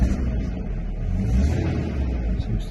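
A Mercedes 124 petrol engine idles and revs gently with a low, steady rumble after its throttle linkage is freed, heard close and continuous, with no talking.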